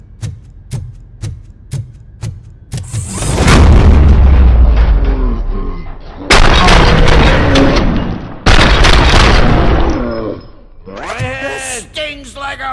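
Gunfire in the video game RoboCop: Rogue City: a run of sharp single shots at a steady pace, then heavy booming blasts with rumbling tails, loud and close, with speech breaking in between bursts.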